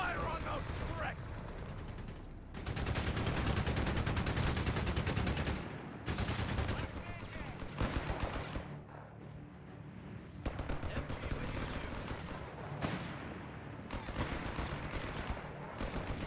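Gunfire and heavy machine-gun bursts in Company of Heroes 3 on an Italian campaign battlefield, with continuous rattling volleys and booming impacts under spoken voices and game callouts.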